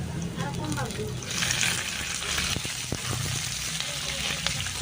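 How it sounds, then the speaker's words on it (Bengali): Capsicum is dropped onto garlic paste in hot oil for a chilli paneer dish, setting off a close, continuous sizzle with brief bursts and occasional stirring knocks. "এবার রসুন বাটার উপর ক্যাপসিকামগুলি দিয়ে দেব"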